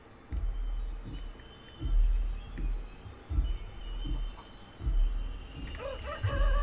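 Chickens in the video game Chicken Feet give repeated low clucking calls in an uneven rhythm, with a higher crowing-like cry near the end, fairly close and without talk.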